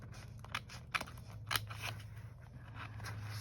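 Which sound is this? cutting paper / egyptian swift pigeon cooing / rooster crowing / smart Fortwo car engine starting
cutting paper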